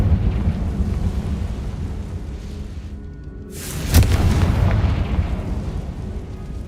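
A Confringo fire-blast spell in Hogwarts Legacy, a sudden loud booming explosion that rolls into a long rumbling tail over a low ambient game background.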